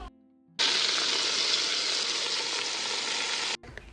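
Chopped vegetables for a vegetable soup hit a hot pan and burst into a loud, even sizzle that holds for about three seconds and then cuts off abruptly, near and alone.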